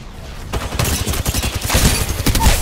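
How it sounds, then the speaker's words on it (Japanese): Rapid bursts of gunfire in a ranked online shooter match, dense clusters of shots with a few louder impacts, loud and continuous through the clip with no talk over it. "この銃声は僕の銃声か。"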